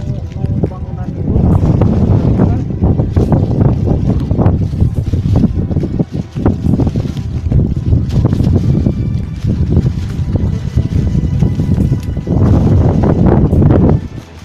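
Strong, continuous wind roars and buffets across the summit of Mount Cikuray, a 2821 m mountain in West Java, blasting loudly into the microphone throughout with only brief lulls.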